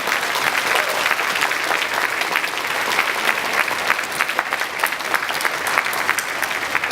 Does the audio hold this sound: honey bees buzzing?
no